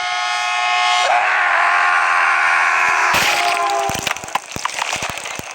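A loud, sustained train horn blares for about three seconds, then a crash of breaking impacts and scattered clattering follows in a scary effect of a man hit by a train.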